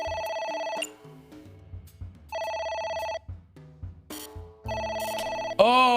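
Repeated bursts of an electronic telephone ring in the video game AI: The Somnium Files, loud and rhythmic with brief pauses between rings, a soft game tone rising at the end.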